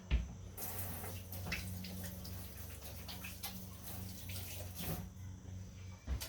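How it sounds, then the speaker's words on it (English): Tap water runs steadily into a sink as onion oil is washed off hands, a continuous splashing stream with small bumps of hand movement and a few clunks at the start and end. "I'm probably gonna have to go wash my hands quick."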